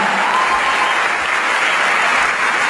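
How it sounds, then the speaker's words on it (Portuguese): A church congregation applauds steadily and loudly in a worship service, a dense, continuous wash of clapping with no pauses. "Aplaude com vontade."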